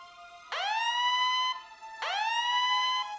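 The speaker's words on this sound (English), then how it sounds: "That's the alarm." Two rising electronic siren wails, each sweeping up and holding steady for about a second, repeating with a short gap between them.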